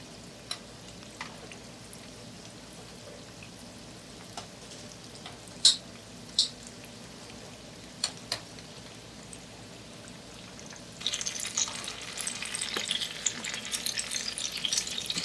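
Breaded chicken and potato kofta frying in oil, with a steady soft sizzle and a few sharp pops and crackles. The sizzle grows louder and busier toward the end, and no one speaks.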